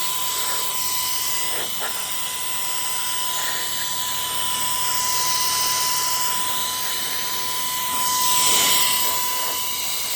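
A VOGMA Vmonster electric compressed air blower, a 100,000 RPM three-speed unit, runs steadily and spins a small fan, giving a loud continuous high-pitched whine with airy hiss that swells slightly near the end.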